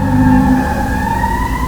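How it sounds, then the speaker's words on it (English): A fire truck siren wails steadily and close, its tone sliding slowly, with a brief clatter at the very end. "it sounds like fire truck"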